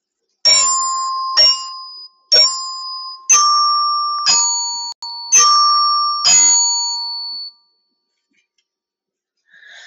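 Keyboard percussion rings out measures 7-8 of a piece: six bright, bell-like mallet strikes in a steady rhythm, each note sustaining and decaying before silence.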